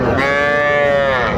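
A calf at a cattle market in Amb Bari, Dinajpur gives one loud, close, sustained moo lasting over a second.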